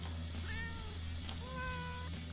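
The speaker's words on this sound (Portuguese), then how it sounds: "Vocês querem ver ele fazer miau?" A cartoon kitten in the video game Kitten Rampage meows twice, two clear rising-falling cries about a second apart over a steady low game hum.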